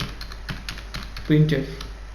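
Keys clacking in quick irregular taps while C code is typed on a computer keyboard, close up, with a voice speaking over part of it.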